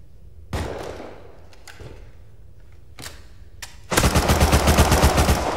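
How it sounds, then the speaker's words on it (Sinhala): Rapid bursts of automatic gunfire in the survival video game Rust at the Military Tunnels, a few sharp isolated shots early on, then a loud, sustained near-continuous volley closing the clip. "පේන ඇති වෙඩි වර්ෂාවයි"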